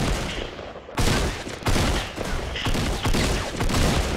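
Loud, dense bursts of automatic gunfire from a Fortnite squads battle royale match come in repeated volleys, several shooters overlapping almost without pause.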